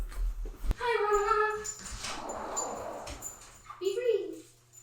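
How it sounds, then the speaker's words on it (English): A dog whimpers and whines in a series of high, wavering cries near the start, followed by softer rustling and a brief low groan, close by indoors. "Dog needs to pee."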